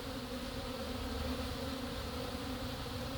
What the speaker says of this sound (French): Les abeilles partout.